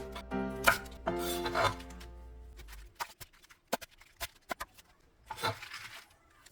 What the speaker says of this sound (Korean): 알배추는 가급적 잎과 줄기 부분을 함께 먹을 수 있게 두세 번 썰어줍니다.